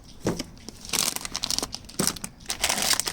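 Plastic packaging bag from a Kettenmax chain-cleaning kit crinkles loudly and close up, in repeated handling bursts as the bag is squeezed and opened.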